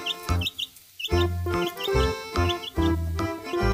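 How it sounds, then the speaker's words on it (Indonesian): Small toy-style chick cheeps from a colorful toy truck play scene, bright repeated peeps in quick bursts over loud music with a steady beat, with a brief pause near the start. "Iya benar, ini adalah anak ayam"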